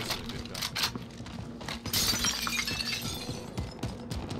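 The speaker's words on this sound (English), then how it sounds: "Someone broke glass." Glass shatters in the online shooter Call of Duty: Warzone on PC, a sharp bright crash partway through among scattered clicks and game noise, fairly close and loud.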